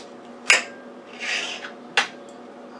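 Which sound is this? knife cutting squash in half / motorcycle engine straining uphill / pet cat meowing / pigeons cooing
knife cutting squash in half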